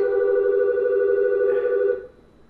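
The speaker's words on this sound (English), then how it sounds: "That phone right there is trying to distract" A telephone rings with a steady electronic tone, loud and alone, then cuts off near the end.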